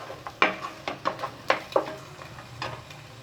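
Ingredients for street-style egg fried rice stirred and frying in a pan, with a spatula scraping and clinking against the metal several times in an irregular rhythm over a soft sizzle.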